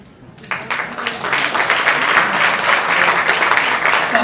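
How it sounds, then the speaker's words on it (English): Audience applause at a charter school's twentieth-anniversary gala, a sudden swell of many hands clapping that holds steady and dense, filling the room, with faint crowd murmur underneath. "Let's have one more round of applause for our CEO, Dr. Hernandez."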